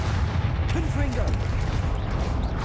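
Confringo blasting spells fired in Hogwarts Legacy, heard as loud booming, crackling blasts that run steadily through the moment, with a voice talking over them.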